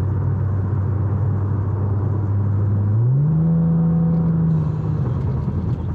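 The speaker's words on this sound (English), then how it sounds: "I'm gonna give a little bit of throttle here." A 2010-or-later Ford Taurus SHO engine fitted with a homemade cold air intake, droning steadily from inside the car, then rising in pitch under light throttle and holding higher before easing back, with no talking.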